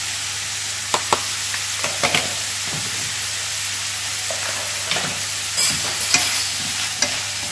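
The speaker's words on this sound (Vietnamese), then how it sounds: "Xào khoảng 5 phút để cho nó chín cái phần gan và phần mề" Chicken liver and gizzards stir-fried with pineapple give off a steady, loud sizzle, broken by repeated scraping and clacking of a utensil against the pan, with no talking.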